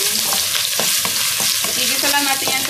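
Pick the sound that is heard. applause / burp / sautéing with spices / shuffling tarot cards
sautéing with spices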